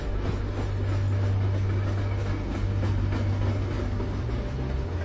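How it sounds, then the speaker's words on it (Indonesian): A train running through the Gotthard Base Tunnel in Switzerland, a deep underground rail tunnel, gives a steady, loud low rumble and hum that continues without a break. "Emang kereta bisa melaju sampai sedalam ini ya?"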